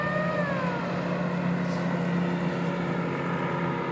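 Motorboats pass on a river with a steady drone of outboard engines and a rising then falling whine as one goes by, heard from a nearby boat with no talking.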